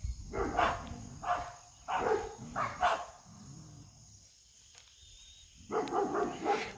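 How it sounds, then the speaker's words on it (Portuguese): Several dogs bark in a rapid burst of repeated woofs, fairly close, then fall quiet before a fresh round of barking starts. "Esses cachorros atentados."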